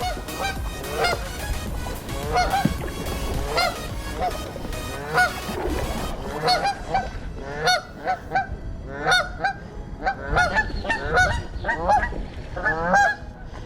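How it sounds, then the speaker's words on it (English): A flock of geese near a kayak on the water honk and squawk loudly and repeatedly in overlapping, uneven bursts, close by and without talk. "Honk. Squawk. Squawking. Squawking. I know, squawking, squawking."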